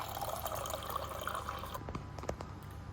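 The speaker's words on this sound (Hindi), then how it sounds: "अब पानी भरते हैं" Water pours in a steady stream into a glass holding pink salt for drinking, close and fairly quiet, then gives way to a few faint drips and clinks near the end.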